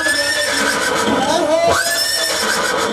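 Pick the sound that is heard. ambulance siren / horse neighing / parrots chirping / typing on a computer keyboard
horse neighing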